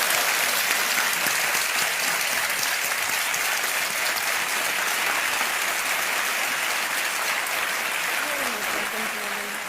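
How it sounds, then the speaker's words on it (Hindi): Studio audience applause on the KBC (Kaun Banega Crorepati) quiz show set, a sustained, loud, dense wash of clapping that holds steady for nearly ten seconds. "एक बार फिर तालियों के साथ इनका अभिनंदन।"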